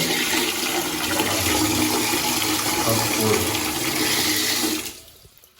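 Water gushes strongly from a tap on a repaired pipe, a loud continuous splashing flow that stops abruptly near the end as the tap is shut.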